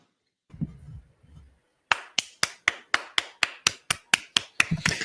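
After a poetry reading, about a dozen sharp, evenly spaced claps ring out close and crisp in a steady rhythm, following a brief murmur of voice.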